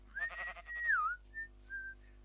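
Minecraft colonist from the Minecolonies mod whistling, a clear tune with a long sustained note that bends downward, followed by two short separate whistled notes, close and fairly quiet.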